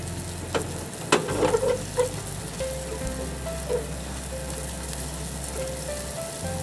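Butter and spicy cod roe fry in a pan, giving a steady close sizzle with a few scraping stirs and light taps near the start, and no voices.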